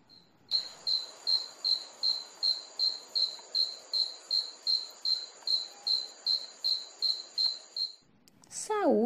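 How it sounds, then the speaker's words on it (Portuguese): Cricket chirping, made by rubbing the hard parts of its wings together, as a steady series of short, shrill, evenly spaced pulses repeating about twice a second, close and clear, ending abruptly. "Os grilos emitem seu criquilar, roçando as partes duras de suas asas uma contra a outra, no intuito de atrair parceiras."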